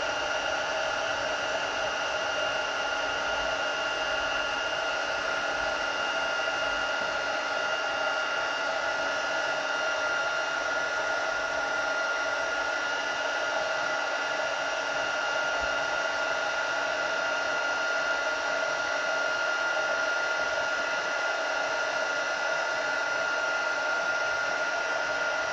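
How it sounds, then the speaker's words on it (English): An old heat gun, around fifteen years in use for embossing, blows in a steady, loud, unbroken hiss and whoosh that runs on unchanged without any talk. "Like I say, my heat gun is probably 15-year-old,"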